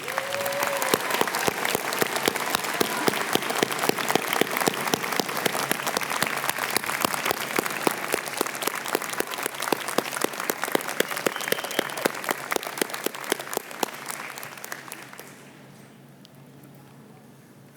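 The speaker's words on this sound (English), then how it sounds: "Let's give your families a huge round of applause" Large graduation convocation audience applauding the graduates' families, loud sustained clapping from a big crowd in a hall that swells, holds for many seconds, then fades away.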